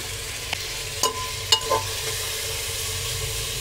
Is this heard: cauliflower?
yes